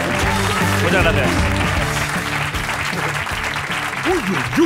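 A radio studio audience claps loudly and continuously, with cheering and voices calling out over the applause.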